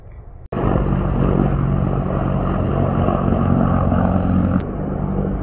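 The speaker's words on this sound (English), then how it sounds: "And the helicopters are coming." A loud, steady rotor drone of a helicopter passing overhead, starting abruptly and holding strong before easing slightly near the end.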